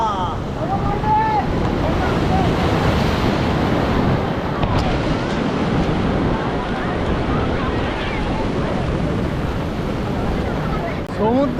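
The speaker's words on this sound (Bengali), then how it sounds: "পুরো উত্তাল উত্তাল হয়ে গেছে" Rough sea waves break continuously at Puri beach during rain, a loud, dense roar with heavy wind buffeting the microphone and faint voices in the background.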